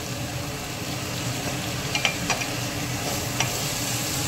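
Soaked dal with garam masala sautéing in a pan: a low, steady frying hiss, close and constant, broken by a few soft spatula scrapes and clinks.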